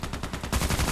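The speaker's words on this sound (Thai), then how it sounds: "เอ้ยเอเสียงปืนเสียงปืนนี่เสียงปืนด้วย" Rapid bursts of video game gunfire from Contract Wars crackle in quick succession, dense and loud, with no talking.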